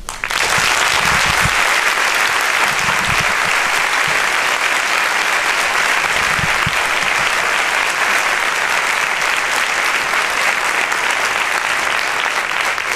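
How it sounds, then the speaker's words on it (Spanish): Loud, sustained applause from a large audience at a Somos Mayoría rally in support of the 22-M Marcha de la Dignidad, a dense wash of clapping that fills the whole stretch without a break. "Os pediría que ese reconocimiento al trabajo lo hiciésemos con un fuerte aplauso."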